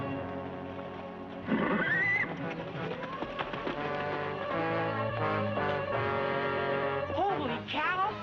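Horse neighing with hoof clip-clop in a 1950s Western TV episode, a whinny rising sharply around the middle and again near the end, set against a loud, busy background score with some voices.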